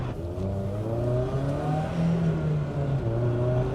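A 32-year-old BMW E30 M3 revs hard in the cabin, its engine note climbing in rising harmonic sweeps through the gears, loud and continuous with no voices.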